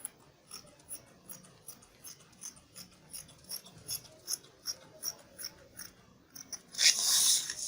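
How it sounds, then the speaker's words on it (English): Scissors snipping through fabric while a cowl neck top is cut out, a steady series of short crisp cuts about twice a second, close and quiet, ending in a louder rustle of cloth. "I will now cut it out."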